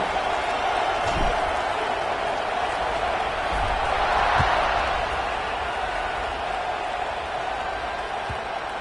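Stadium crowd in the College Football 26 video game cheers before a kickoff, a steady broad roar with a couple of faint thumps, holding at an even level throughout.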